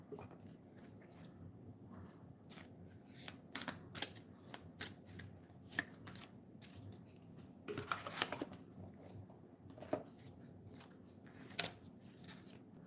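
Tarot cards being shuffled by hand in a quiet room, with a steady run of soft papery riffles and sharper flicks spread across the whole stretch at close range.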